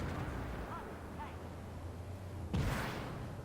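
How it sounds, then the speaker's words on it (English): Tank cannon fire from HE shells in the Armored Warfare game, with a C1 Ariete under attack: a single loud blast arrives near the end over a steady engine rumble and faint background chirps. "he's actually firing HE at me."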